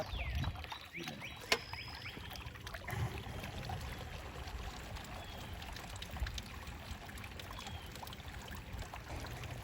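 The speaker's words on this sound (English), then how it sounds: "we could see we had water was bubbling up in the back" A yard pond filter pump pushing water up so it bubbles and trickles steadily, a soft continuous gurgle with faint splashes close by.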